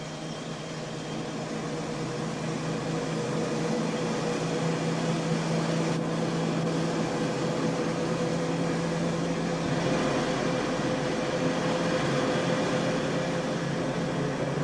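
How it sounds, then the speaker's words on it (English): A stone-cutting machine working oolitic limestone at a quarry in Bradford on Avon drones steadily with a constant whirring hum and grinding hiss, unbroken and fairly loud throughout. "they have a stone-cutting machine which does in an hour what used to take a man a fortnight"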